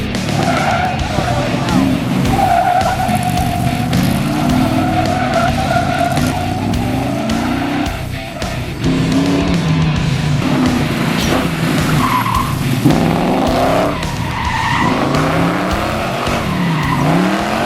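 Classic cars race around an autocross course at the Hot August Nights car event, with tires squealing and skidding almost continuously over loud engine roar, the sound swelling and fading as the cars swing through turns.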